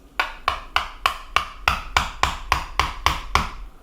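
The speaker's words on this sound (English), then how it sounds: "So what I do is take a flathead screwdriver, a hammer, and I go in" A steady series of about a dozen sharp metallic knocks, evenly spaced and close, as a hammer strikes a flathead screwdriver into a wall.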